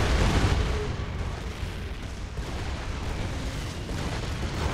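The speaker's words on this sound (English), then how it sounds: "Mortars! Take cover!" Mortar shells in the shooter game Gears of War 2 thunder in heavy, rumbling booms that open loud and keep rolling on as a dense barrage.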